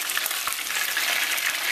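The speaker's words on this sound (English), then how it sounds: "The fish is all done frying now, nice and beautiful color and everything else." Fish for Jamaican escovitch fish frying in a pan, a loud, close, continuous hiss and crackle of hot oil with small pops throughout and no voices.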